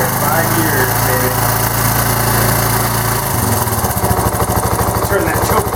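A Suzuki GN125 motorcycle, started cold after sitting five years with the choke being turned down, runs loudly and close with a buzzing single-cylinder note that shifts to a rougher, lower idle partway through. Voices talk over it.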